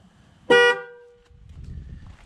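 A 2013 Chevrolet Camaro horn gives one short, loud honk during a tire pressure sensor relearn, followed by quiet outdoor rumble.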